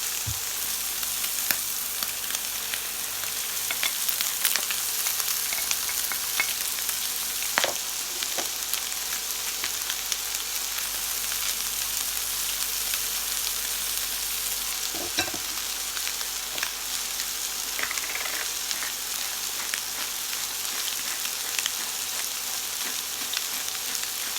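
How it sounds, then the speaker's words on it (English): Vegetables fry and sizzle in a pan alongside seared meat for a kimchi pie, a steady, close crackling hiss with occasional stirring clatter and no talking. "I'm going to add my vegetables."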